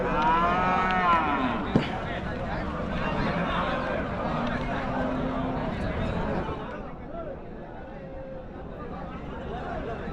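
Bulls lowing at the Muthunayakkanpatti cattle market in Salem, several drawn-out moos rising over a steady crowd murmur and chatter of buyers, with a sharp knock partway through.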